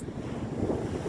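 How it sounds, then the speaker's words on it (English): Breezy wind on a beach buffets the microphone in a steady low roar, with a hint of surf beneath. "A little bit breezy, as you can tell."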